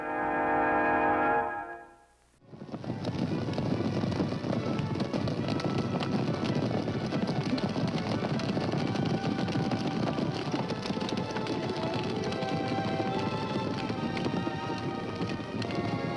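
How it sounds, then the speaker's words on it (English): Horses gallop in a classic television Western, including a great wild stallion ridden by a boy. A brief sound cuts out and falls quiet, then a dense, steady drumming of hooves runs on continuously. "a great wild horse and the only person on earth who can ride him"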